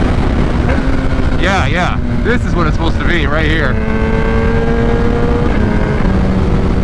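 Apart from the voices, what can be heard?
2021 Kawasaki ZX-10 motorcycle engine shifting gears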